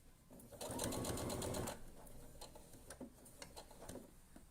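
Sewing machine stitching fabric letters, a fast rapid whirring run of needle strokes for about a second, then slower intermittent ticking stitches and mechanical clicks, close up.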